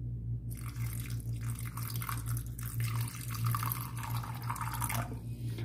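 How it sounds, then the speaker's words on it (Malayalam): Water poured over about thirty cashew nuts to soak them, a steady close splashing and trickling that starts after a brief quiet moment and runs on over a low background hum. "ഇത് നമുക്ക് ആവശ്യത്തിന് വെള്ളം ഒഴിച്ച് 10 മിനിറ്റ് സോക്ക് ചെയ്യാൻ വെക്കാം"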